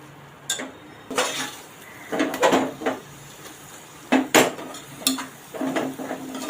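Spices being sautéed in oil in a pan for Maharashtrian val (field bean) khichdi, with a utensil clinking and scraping against the metal in irregular bursts, close by and moderately loud, with no talking.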